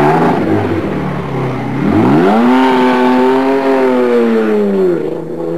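A turbocharged Formula racing car engine screams at full power on a qualifying lap, revving up sharply, holding a loud high-pitched wail, then easing off, close and alone with no talk.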